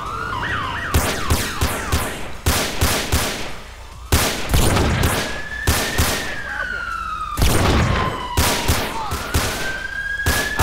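Sniper rifle gunfire in GTA San Andreas, loud sharp cracks repeating in quick bursts and single shots, with a wailing emergency siren sweeping through the background between volleys.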